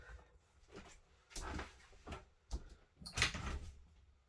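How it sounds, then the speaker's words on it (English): Indoor door being opened at home: a series of soft knocks, creaks and handle clatters spread over a few seconds, fairly quiet and close, with no talk. "Right, I'll have to open the door."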